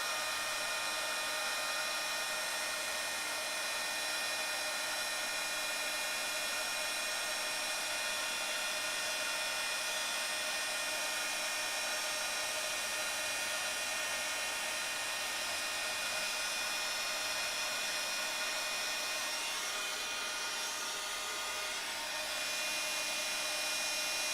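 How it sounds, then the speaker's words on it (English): A heat gun blows steadily over embossing powder as it melts to a gloss, a loud, constant whirring hiss with a high motor whine that holds unbroken and alone for the whole stretch. "when you start embossing, the image is going to look a little bit dusty, and you just want to heat it until it starts to gloss"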